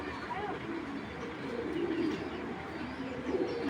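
Fancy pigeons coo softly and repeatedly close by, low murmuring calls over a busy background where someone talks.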